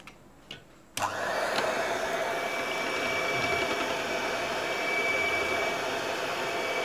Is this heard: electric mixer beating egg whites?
yes